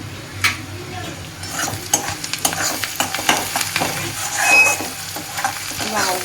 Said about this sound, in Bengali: এই যে পেঁয়াজটা প্রায় অলমোস্ট ভাজা হয়ে গেছে